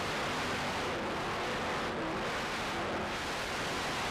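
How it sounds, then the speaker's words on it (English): Fountain racing powerboats roar through a turn during a race, a continuous loud wash of engine noise and water rush that holds steady throughout with no voices. "Fountain Powerboats now taking the lead on that turn"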